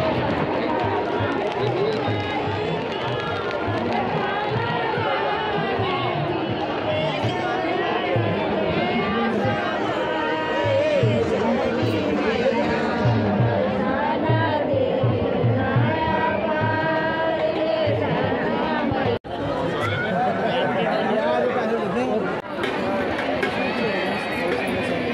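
A large crowd bustles at a Chhath Puja gathering at dawn, with continuous dense chatter and babble from many voices nearby, steady and loud throughout.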